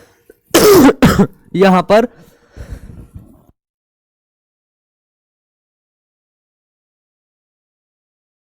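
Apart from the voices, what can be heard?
coughing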